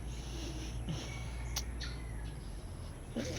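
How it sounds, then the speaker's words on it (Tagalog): Faint, brief bird chirps in a quiet rural setting, with a steady low background hum and a few short high calls. "Rinig mo mga umoy ng ibon."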